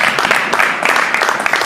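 Congregation at a memorial service applauding, a dense burst of many hands clapping close by, brisk and uneven for a couple of seconds.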